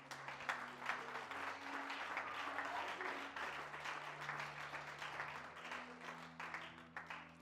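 Church congregation at a French-language worship service applauding warmly, sustained clapping over a held organ or keyboard chord, fairly close and steady, with scattered voices mixed in.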